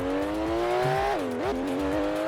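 A Bugatti engine races in the Roblox Vehicle Legends game, holding a high steady whine that dips sharply and recovers as the car shifts. Tire squeal mixes in, all loud and close with no talk.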